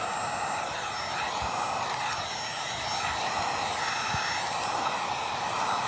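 A heat gun blows a steady, airy whoosh while heating the corners of vinyl wrap film. The noise is constant and moderately loud throughout, with no talking.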